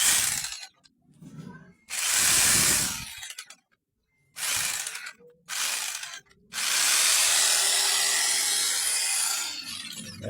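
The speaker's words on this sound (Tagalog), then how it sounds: "Ito naman yung jigsaw natin." An electric jigsaw with no blade fitted, switched on in several bursts: loud close whirring runs separated by pauses, the last one long and sustained.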